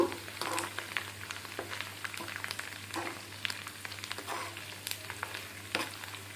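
Four dried red chillies fry in hot oil for an Andhra-style coriander pickle, crackling close by with a scattered run of sharp pops and spits over a low sizzle.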